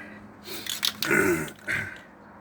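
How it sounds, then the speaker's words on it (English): A rough, raspy clearing of the throat in a couple of bursts, close and moderately loud, with no speech. "Excuse me if I clear my throat quite a bit"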